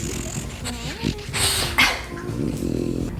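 A pet dog kept indoors barks and growls in an upset fit, the noises mixed with someone talking over a busy household background.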